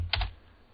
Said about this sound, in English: So we'll go ahead and type in netcat